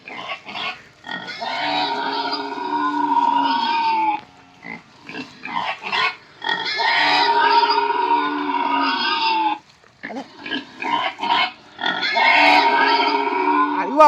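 Loud, rough grunting and squealing from a pig imitation in long bursts with brief pauses, close and continuous across the whole stretch.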